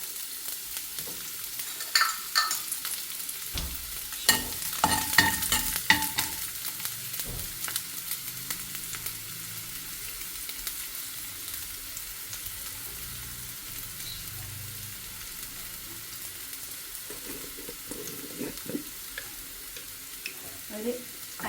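Sliced onion frying in oil in a pan while being stirred, with a soft continuous sizzle, scraping stirring bursts early on, and a few brief clatters, moderately close.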